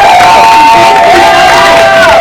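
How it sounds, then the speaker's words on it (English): Audience at a women's symposium erupting in loud cheering and whooping over applause, a dense, sustained crowd roar with high shouted voices close and continuous throughout. "Give Sherry a round of applause."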